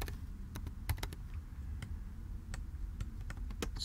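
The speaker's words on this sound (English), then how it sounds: "we're going to type" Code being typed on a computer keyboard, scattered quiet key clicks in an irregular rhythm over a low room hum, close-up and without speech.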